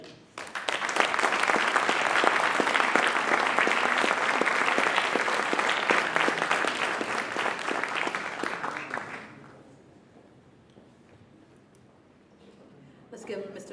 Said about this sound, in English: Let's give Mr. Lenoir another round of applause